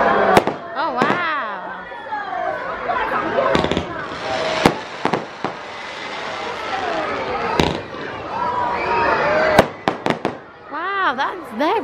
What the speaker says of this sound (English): They're gorgeous fireworks.